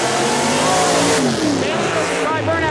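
A 1987 Ford Taurus station wagon drag car doing a burnout at the strip, loud engine revving with tire roar, heard under a commentator's voice.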